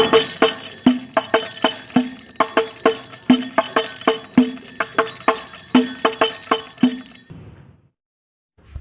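A hadroh frame drum plays the 'tarik kunci 1' stroke pattern, a rapid, steady run of sharp, ringing hits lasting about seven seconds before fading into silence, close and alone with no speech.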